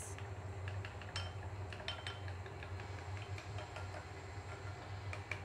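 A spoon stirs flaxseed gel into aloe vera gel in a small bowl, making light repeated clinks and soft taps against the dish over a low steady hum.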